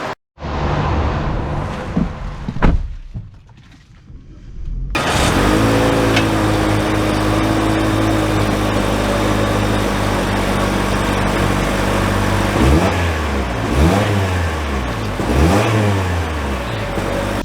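A 2024 Toyota Corolla XSE starts up and pulls away, engine note rising loud and close in a steady drone with a few surges of revving as it accelerates.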